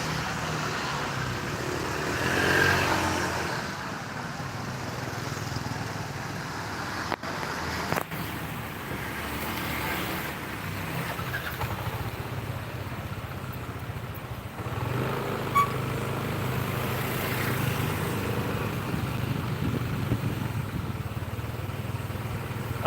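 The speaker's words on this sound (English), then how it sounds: "now I will drive in motorbike" A motorbike ride through street traffic on Kayu Aya Street in Seminyak, Bali, carries a continuous engine drone and wind buffeting, with passing vehicles swelling and fading around it at a steady, moderate level.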